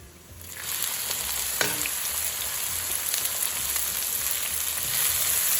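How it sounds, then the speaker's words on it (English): Onions sizzle loudly in a hot pan for paneer masala after garam masala and chilies have been added, a dense continuous frying hiss that swells in within the first second and holds steady, with one brief scrape of stirring. "Oh no, the onion needs to be fried till they're nice and golden brown."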